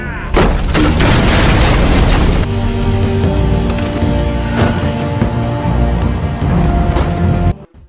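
Gunfire in a film scene as a group shoots into a house, a dense, loud barrage of booming shots and blasts rolling continuously for several seconds before cutting off abruptly.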